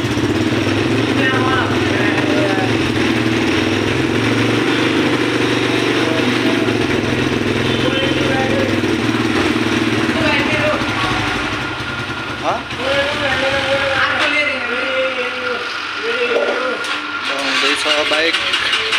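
A motorbike engine idling and revving up close, a loud steady rumble with people talking over it and the engine settling toward the end.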